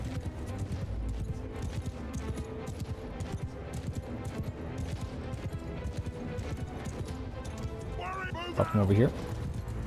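Horses galloping in Mount & Blade II: Bannerlord battle, dense rapid hoofbeats throughout amid arrow fire, with a neigh near the end and someone talking over it.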